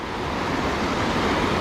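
Rough creek water rushing steadily as a dense, continuous roar with no break, close and fairly loud, heard alone without any voices.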